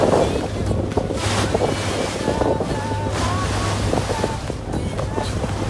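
A boat rides across the water in Venice with buffeting wind on the microphone, splashing waves and a low engine hum that cuts in and out, loud and close throughout.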